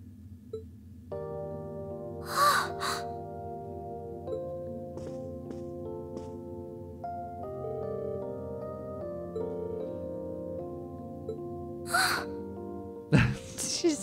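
A character in Trails of Cold Steel II gasps sharply, a couple of short breathy gasps over sustained orchestral game music, with a few quiet voiced sounds around them.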